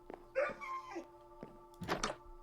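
Dogs in Minecraft let out a short bark, a whimper and then another bark, brief and fairly close, with no one talking.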